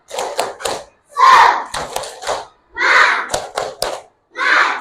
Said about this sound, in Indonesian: Ayo coba kita tepuk semangat dulu. Tepuk semangat.